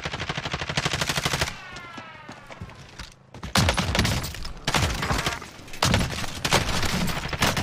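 Loud, rapid bursts of gunfire in a first-person shooter video game, with a fire-ammo shotgun firing in dense repeated volleys separated by brief gaps, sitting close and heavy in the mix without talk.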